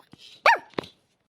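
A voice imitating a barking dog, giving two short, close, sharp barks followed by silence.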